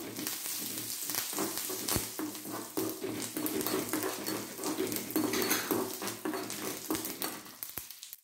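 Curry leaves frying in hot oil while tempering pirandai chutney, giving a steady, faint crackling sizzle with light stirring scrapes throughout, no voices.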